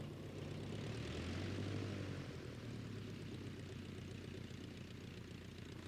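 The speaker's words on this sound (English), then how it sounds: "The SK-1s, or albatrosses, are taking part in an extended relay race held between the frozen lakes of northern Sweden." Propeller aircraft engines of SK-1 Albatross biplanes, on skis in a relay race between frozen lakes in northern Sweden, droning steadily with a low pitch that swells then settles, continuous and fairly distant, with no voices.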